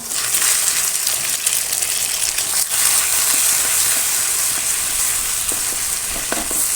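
Eggs fry in hot oil in a pan, giving a loud continuous sizzle and crackle close by with faint stirring, and no voices.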